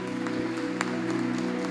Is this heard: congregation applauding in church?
yes